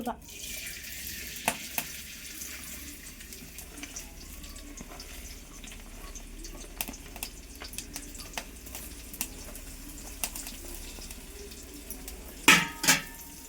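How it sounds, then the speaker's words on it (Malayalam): Onions fry with salt in a pan over a wood-fired stove, giving a faint, steady sizzle broken by scattered light clinks and taps from stirring. "നമ്മൾ വിറകടുപ്പിലാണ് ഇത് വറുത്തെടുക്കണം കേട്ടോ സബോള"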